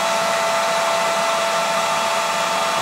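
A heat gun blows a steady, loud whirring roar while warming the adhesive under the pickguard of a Martin D28 acoustic guitar, continuous and close with no talk over it.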